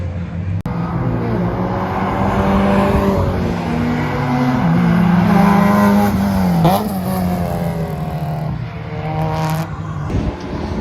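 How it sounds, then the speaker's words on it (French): Ken's Honda EF9 Civic with a Spoon-built engine revving hard, rising and falling high-pitched engine tone sweeping up through the gears, loud and close, with a sharp click at the start and a few quick blips near the end. "je vais vous montrer la voiture de Ken à la place, parce que c'est celle qui sonne le mieux"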